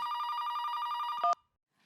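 A telephone rings with a steady, repeating electronic bell tone that carries on for over a second. It ends in a brief louder burst and then cuts to silence.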